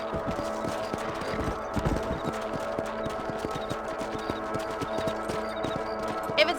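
Rhythmic clip-clop of horse hooves at a steady trot in Red Dead Redemption, repeating throughout over a low background bed of game sound.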